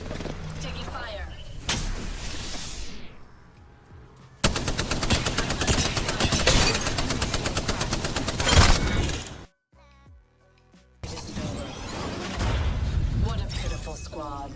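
Apex Legends gunfire: dense automatic bursts and sharp shots rattle loudly in long stretches, broken by a short quiet gap, with glassy shattering and in-game voice lines mixed in.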